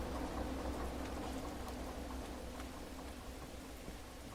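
Rain falls in the train simulator game Derail Valley, a soft, even hiss of drops that continues steadily and faintly with no talk.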